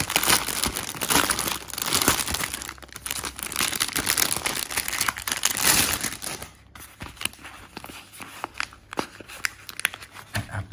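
A stevia seed package with a strip closure is handled and opened, giving loud close crinkling and crumpling of plastic in bursts, followed by quieter sporadic rustles and clicks.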